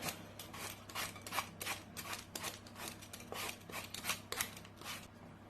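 An apple is peeled by hand, giving a series of close, quiet rhythmic scraping strokes over a low steady background hum, with no talking.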